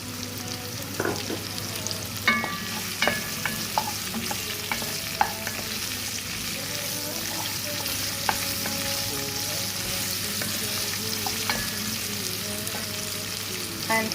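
Chopped garlic and green chilli fry in a pan with a steady sizzle, broken by scattered stirring clinks and scrapes of a utensil throughout.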